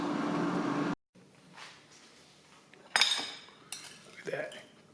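Cutlery scrapes and clinks against a plate while cutting grilled provoleta cheese into quarters, a few short irregular bursts after a brief silence, close and moderately loud.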